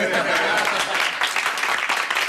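Audience applause fills a room, a dense even wash of clapping that stays steady and moderately loud throughout, with voices mixed in.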